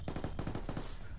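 Rapid automatic gunfire from the video game Ghost Recon, a steady stream of loud close bursts with a short pause before a final shot.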